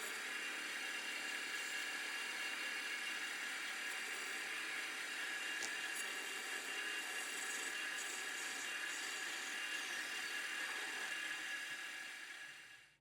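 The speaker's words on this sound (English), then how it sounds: "I then parted off the blank to length to create the finished part." Metal lathe parting off a threaded blank for steam boiler hardware, a steady high-pitched whine and hiss holding evenly close by for most of the stretch before cutting out at the end, with no talk.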